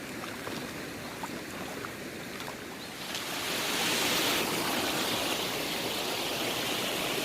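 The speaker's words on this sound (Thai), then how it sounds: "โชคดีมีน้ำตกมีลำธาร สายเล็ก ๆ เย็น ๆ ใสๆนะคะ เราจะล้างเลยค่ะ" A small, cool, clear stream beside a waterfall rushes steadily while plants are washed in it; the water grows louder and fuller about midway and stays close, with no speech.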